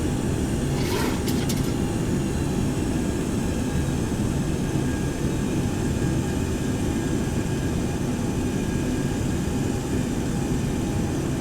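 Steady, dense cabin roar from a Boeing 727-100 jet airliner in flight on approach to Chicago's Meigs Field, constant broadband engine and airflow noise throughout with a brief faint higher hiss near the start.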